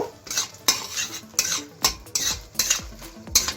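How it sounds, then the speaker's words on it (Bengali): Whole spices and ground nutmeg frying in a pan, with repeated sharp scrapes and clinks of a metal spoon stirring in a regular rhythm over a faint sizzle, close and without talk. "খুব ভালো করে একটু ভেজে নেব"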